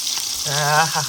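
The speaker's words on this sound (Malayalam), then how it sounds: "അങ്ങനെ മീൻ പൊരിക്കുകയാണ്" Close, steady sizzling of fish frying in oil, with a brief voice murmuring over it.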